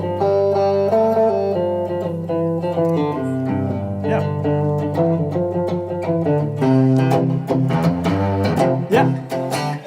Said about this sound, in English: And that's the sound of Mixolydian.